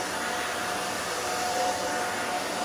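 Hair dryer blowing on hair while it is combed, a steady loud broadband whoosh with a faint whine, continuous and close with no talking.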